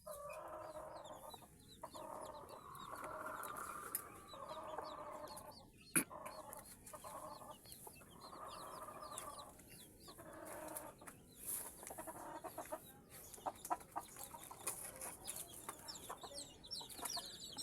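Hens and chicks in a chicken coop keep up steady clucking and high peeping chirps, with occasional sharp knocks and louder squawks, close and continuous.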